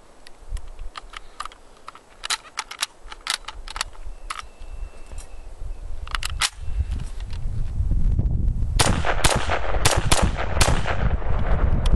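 Sharp, loud SKS rifle shots fired outdoors, scattered single cracks early on, then a rapid string of closely spaced shots near the end over rising background rumble.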